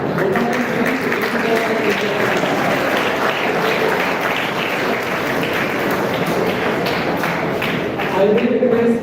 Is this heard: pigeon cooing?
no